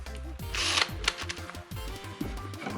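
A drill spins a stiff nylon brush against maple burl in short, close start-stop bursts, its motor whining up and down in pitch between brief pauses.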